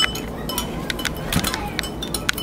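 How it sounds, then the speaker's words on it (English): A utensil stirs borax into water in a container, giving light clinks and scrapes in an irregular rhythm, close and fairly quiet. "so that you may stir the water."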